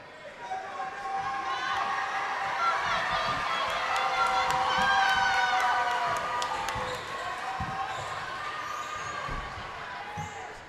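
A sold-out crowd in a high school gym before a volleyball match, a dense murmur of voices with cheers and shouts, balls thumping on the floor and sneakers squeaking throughout.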